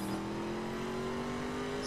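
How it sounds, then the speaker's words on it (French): Ford Mustang engine in The Crew video game, a steady droning hum held at an even pitch that rises slightly, moderately loud and continuous with road noise underneath. "j'espère que vous aimez bien ma Ford Mustang"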